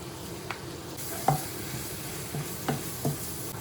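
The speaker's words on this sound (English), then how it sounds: "you just want to saute it for 1 or 2 minutes until the leaves are done and cooked" Leaves sauté in oil in a pan with a soft, steady sizzle, broken by a few light scrapes and taps as they are stirred, close by with no voices.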